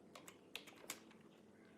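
A computer keyboard plugged into a Mi Smart TV by USB, heard as a few sparse, faint key clicks, a couple of sharper taps in the middle, over a quiet room with no talking.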